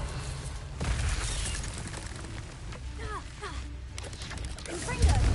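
Explosive bursts from the Confringo fire spell in Hogwarts Legacy, a few muffled booms and pops amid game sound effects, moderately faint with a sharper burst near the end.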